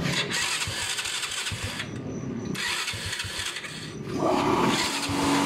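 A Honda Wave 100 motorcycle with a 56mm block cranks and sputters, cuts out briefly, then catches and revs up into a loud, rough idle close by.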